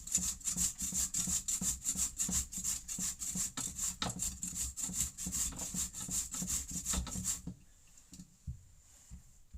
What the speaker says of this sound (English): Just take a regular box grater and just grate it.